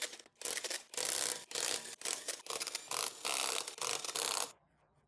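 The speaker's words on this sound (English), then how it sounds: "Use a 17mm socket with impact to remove lug nuts and wheels." Bursts of an impact wrench with a 17mm socket removing lug nuts from a 2006-2011 Honda Civic wheel, several loud rattling hammering runs separated by brief pauses, then quiet at the end.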